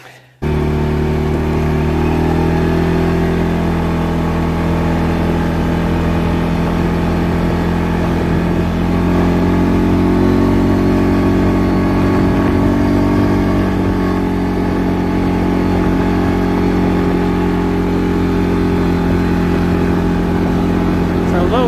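A 2022 CForce 500 ATV engine runs steadily in low gear on a high mountain desert cruise, a loud, continuous droning hum with slight pitch shifts as the rider holds around 18 to 20 mph, a voice talking over it.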